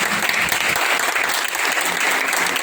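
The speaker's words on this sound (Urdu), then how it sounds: "تو ان کے لیے بھی بہت سی تالیاں" An audience at the closing of a three-day workshop claps in steady, sustained applause, a dense crackle of many hands filling the room.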